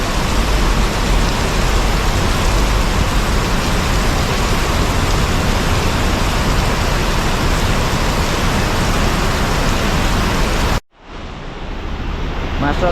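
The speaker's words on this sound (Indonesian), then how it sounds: "Di tengah guyuran hujan deras teman-teman." Heavy rain pouring at the Arjosari bus terminal in Malang, East Java: a loud, steady wash of downpour noise that cuts out abruptly near the end, then a quieter hiss resumes.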